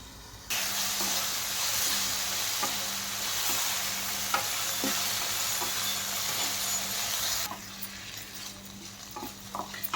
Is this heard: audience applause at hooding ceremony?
no